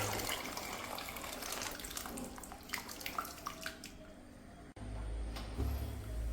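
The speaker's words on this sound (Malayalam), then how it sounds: "ഇനി ഇതിൻ്റെ അകത്തേക്ക് വേവിച്ച് വെച്ചിരിക്കുന്ന പരിപ്പ് ഒഴിച്ചു കൊടുക്കാം." Cooked lentils for a dal curry poured into a pan with cooked tomatoes, giving a wet gushing, splashing pour for about four seconds, close and fairly quiet, before a short break and a low rumble.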